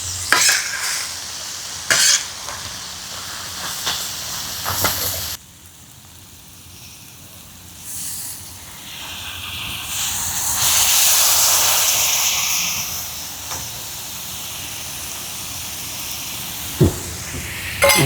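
Crab fries in a hot pan with a bright, steady sizzle and hiss, broken by a few sharp stirring clacks and swelling into louder spitting as it cooks.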